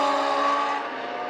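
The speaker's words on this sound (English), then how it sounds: "You hear those motorcycle engines just getting punished." Small dirt-track race cars at Maquoketa Speedway, powered by alcohol-fueled motorcycle engines, scream past at high revs with a loud, whining engine tone that drops slightly in pitch.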